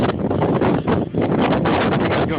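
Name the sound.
strong wind during a blizzard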